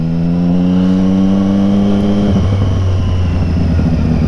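A motorcycle engine with water in its fuel tank runs loudly and close up, idling with a steady drone, then its pitch drops and it turns rough and uneven around the halfway point, as if about to stall.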